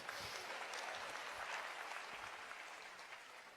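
Audience applause at a live stage program in Gujarati, with a dense, steady wash of clapping that holds fairly evenly throughout and eases off slightly toward the end, with no speech over it.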